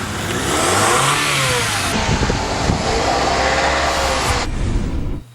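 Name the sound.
car engine revving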